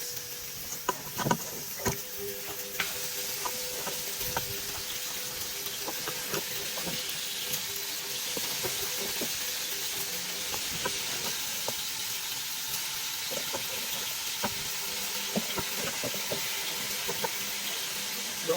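Oxtail browns in a pot with a steady, bright sizzling hiss, close and continuous, marked by occasional soft clicks and pops.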